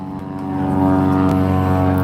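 A propeller aircraft engine powering up during an air show, a loud steady droning roar that swells over the first second and then holds strong and continuous.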